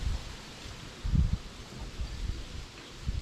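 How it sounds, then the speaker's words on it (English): Low wind buffets the microphone in soft gusts, with one stronger rumbling gust, and faint rustling in between. "Right as I say that, it's a little windy."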